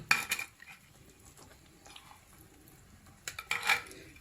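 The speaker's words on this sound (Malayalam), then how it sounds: "ഇതിലോട്ട് നമുക്ക് മാങ്ങയുടെ ഓരോ പീസുകളായിട്ട് ഇങ്ങനെ ഇട്ട് കൊടുക്കാം." Mango pieces dropped into a clay pot for pickle, with a cluster of soft clattering knocks at the start and another near the end, quiet handling in between.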